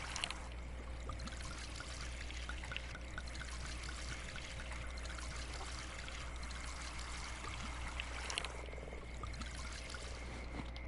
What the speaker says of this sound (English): just pour it in